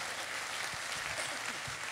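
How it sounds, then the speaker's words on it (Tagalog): A church congregation applauds for the Holy Spirit during a sermon, producing a steady, dense wash of clapping that fills the whole moment with no voices over it. "para sa Holy Spirit yung palakpak"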